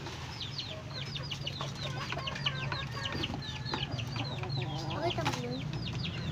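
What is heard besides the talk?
pet chickens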